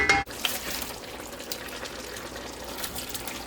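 Meat-loaded chilli with sausages simmers in a pot, a steady low bubbling and soft crackle running on without a break after a brief knock at the start, close and fairly quiet.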